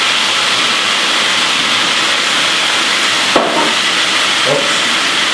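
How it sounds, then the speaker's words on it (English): Mirepoix with rosemary sizzles steadily in a hot pan, a loud, even hiss with no pauses, broken by a couple of short clinks of a utensil. "So now we're going to give a good fry this beautiful mirepoix here."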